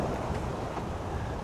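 A sailing boat heading east against the tide in a 15 to 16 knot wind with the swell building: steady, loud wind rushing over the microphone, mixed with a low wash of water, for a brief moment.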